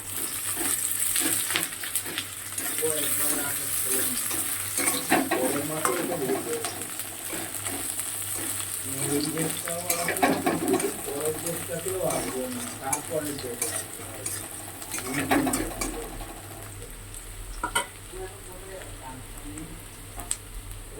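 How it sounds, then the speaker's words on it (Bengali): Onions and two dried red chillies sizzle and fry in hot oil in a wok, a steady crackle with occasional scraping stirs, while a voice talks intermittently over the cooking. "দেখো কড়ার তেলও গরম হয়ে গিয়েছে, পেঁয়াজ দিয়ে দিলাম। দেখো দুটো শুকনো লঙ্কাও দিয়ে দিলাম।"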